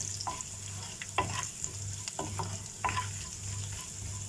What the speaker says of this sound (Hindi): खड़ा जीरा इसी में डाल।